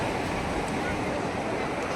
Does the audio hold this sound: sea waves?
yes